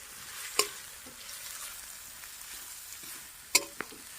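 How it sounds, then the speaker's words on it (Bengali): Onions lightly frying in a pan for village-style veg chowmein, a steady soft hiss of sizzling oil broken by two sharp metallic clinks from a stirring utensil. "পিঁয়াজ হালকা হালকা ভাজা হয়ে গেছে"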